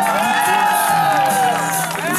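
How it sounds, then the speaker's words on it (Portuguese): A party crowd at a birthday celebration for an elderly man in Guarulhos claps, cheers and whoops loudly and steadily, with voices shouting within the noise. "Uma salva de palmas pra ele"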